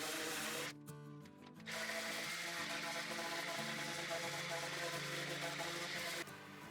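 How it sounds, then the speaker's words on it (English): A power sander cleans up a wooden driveway sign, giving a continuous, close grinding whir with a short dip near the start and a drop in level at the end. "just a little cleanup work with the sander"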